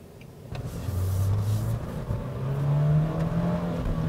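A 2019 Nissan Frontier pickup truck drives with its engine droning and rising in pitch as it accelerates, a steady moderate hum of motor and road noise heard from inside the cab.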